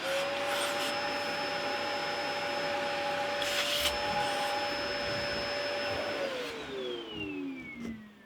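A vacuum cleaner runs steadily, whining close by while picking up sanding dust from an antique parlour guitar, then winds down as its motor pitch falls at the end.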